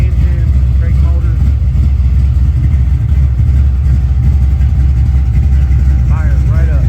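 A big-block blueprinted car engine idles steadily just after starting, a loud, close, even low rumble that runs throughout, with faint voices briefly in the background.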